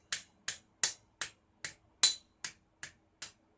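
Sharp blows knock a loose plastic fastener out of a vacuum cleaner being stripped for recycling, ten crisp taps spaced evenly about every 0.4 seconds, each ringing briefly and alone, near and fairly loud.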